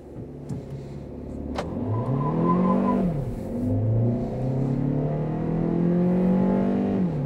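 A 2024 Forthing T-Five car engine revs up from idle to 2000 rpm, its pitch climbing and holding high and loud for several seconds with no voices.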